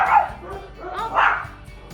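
Dogs bark indoors in two close, sharp bursts roughly a second apart, fairly loud and standing alone with no talking over them.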